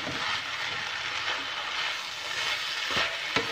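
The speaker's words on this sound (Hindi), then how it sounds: "तो मैं इसके अंदर चिकन शामिल कर दूँगी और तमाम मिक्सचर को मिक्स करेंगे।" Chicken stirred into a pan of softened vegetables for Ramadan chicken and vegetable rolls, a gentle continuous sizzle with a few sharp spoon knocks against the pan near the end.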